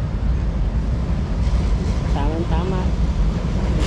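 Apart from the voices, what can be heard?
MRT/LRT commuter train passing in Manila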